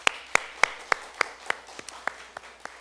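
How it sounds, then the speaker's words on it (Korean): A group at a training gathering claps in a steady, evenly spaced rhythm, about ten sharp, fairly quiet claps over a low background. "우리 큰 박수로 서로 축복하겠습니다."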